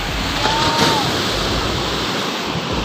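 Steady roar of ocean surf with constant wind noise, loud and continuous, with a faint brief tone near the start.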